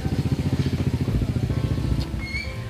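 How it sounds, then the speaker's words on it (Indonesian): A KTM motorcycle engine runs close by at an event, with a steady, rapid pulsing throb and a brief high whine near the end. "Padahal KTM ini motor impianku mas."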